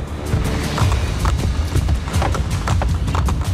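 Horse hooves clip-clop steadily and loudly at a brisk pace in Assassin's Creed Brotherhood, a rapid, regular run of close thudding strikes on hard ground, with no voices.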